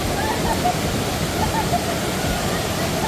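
Constant broadband roar of the Batu Bertenggek waterfall, dense and loud, with a steady rushing texture throughout.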